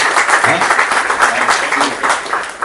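An audience at a poetry anthology reading breaks into applause for a former teacher, a sustained, fairly loud clapping with some faint voices mixed in.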